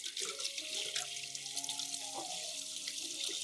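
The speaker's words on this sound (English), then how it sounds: "I will rinse the entire plant again with clean water." Clean water runs from a tap over an orchid plant being rinsed, a soft, faint splashing and trickling with a few bright gurgles as the stream shifts, with no voices.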